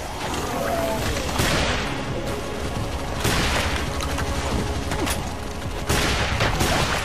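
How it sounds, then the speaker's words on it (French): Continuous video game gunfire from a shotgun and machine gun in God Mode, a dense, loud fusillade with repeated heavier blasts at intervals over a steady background of shooting. "Mais je préfère la mitrailleuse, moi qui suis pas très doué, ça me permet d'arroser à tout va"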